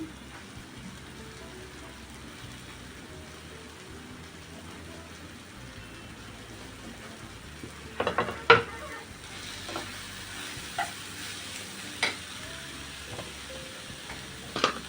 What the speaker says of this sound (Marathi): मसाल्यानं तेल सुटलेलं आहे आता आपण हा फ्लावर किसून घेतला आहे तो पण टाकूया